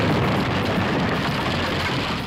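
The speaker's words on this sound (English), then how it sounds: "there's explosions everywhere," Dense booming explosions and gunfire blur together in a western film gunfight, a continuous loud low roar with no clear gaps and no speech.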